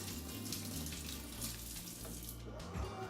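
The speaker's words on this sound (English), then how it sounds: "you get your water hot, and hopefully you have either a spring handle or a retractable faucet like I do" Hot water gushes from a retractable kitchen faucet in a steady, close, fairly loud stream, with no one talking.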